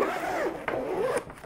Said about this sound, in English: zipper goes on top